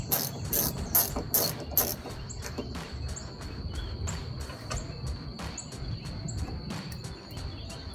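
Ratcheting socket wrench clicking as it loosens a nut on a rear spoiler stud of a 2015-2023 Mustang, a quick burst of loud close clicks at the start, then lighter intermittent ticking.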